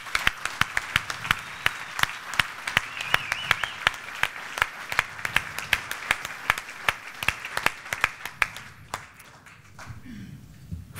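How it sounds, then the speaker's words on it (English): Sustained audience applause at an awards finale honouring three winners, dense sharp claps throughout, fading out toward the end. "in our view, a big round of applause."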